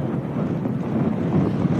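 Cold, strong wind buffets the microphone on a golf course in Scotland during a women's professional tournament, a steady rushing roar that swells and dips with no one talking.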